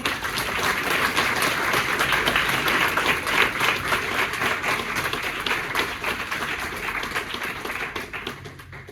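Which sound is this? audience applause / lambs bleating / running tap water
audience applause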